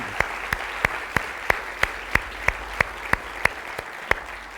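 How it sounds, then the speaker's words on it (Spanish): A church congregation claps together in a steady, even rhythm, each sharp unified clap ringing out about three times a second over a soft wash of background noise. "Dale un aplauso a Él."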